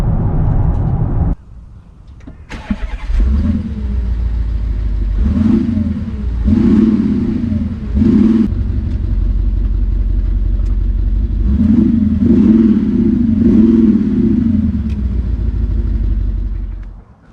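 Audi SQ7 engine heard close up, with an initial loud rumble, then several revving surges rising and falling as the car drives, settling before the engine cuts out at the end.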